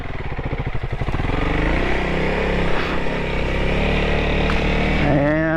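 A Honda CRF300L dirt bike engine revs hard and close, bogging and surging as it churns through a muddy rut, loud and continuous throughout.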